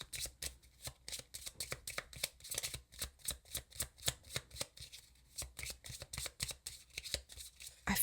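A deck of chakra oracle cards is shuffled by hand close up, a rapid run of crisp riffling flicks and slaps in a steady rhythm that carries on throughout.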